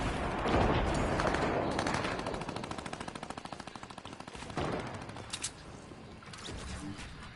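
Rapid automatic gunfire from a PS4 shooter game rattles loud and continuous, with bursts of repeated shots and a few heavier booms near the end, no voices present.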